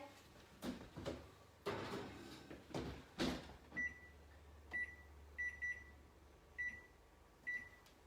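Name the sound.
oven door closing and beeps as the muffin bread goes in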